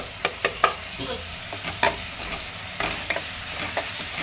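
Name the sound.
sautéing tomatoes in onion masala in oil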